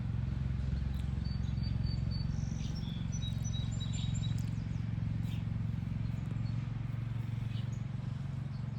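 Small birds chirp and tweet in short, high bursts in a backyard, fairly distant, over a steady low outdoor hum with insect-like buzzing; no talking.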